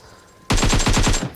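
Rapid M4 rifle fire in a video game: a burst of about eight evenly spaced, loud, close shots starting abruptly after a brief quiet lead-in, with no talking.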